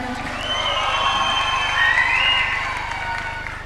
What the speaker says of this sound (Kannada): ರಿಷಬ್ ಶೆಟ್ಟರಿಗೆ ಜೋರಾದಂಥ ಚಪ್ಪಾಳೆ